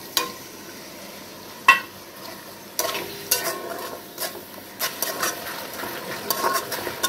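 Whisked sour yogurt hits a pan of frying masala with a sharp sizzle, followed by repeated spoon scrapes and clinks against the pan as it is stirred in, close and moderately loud.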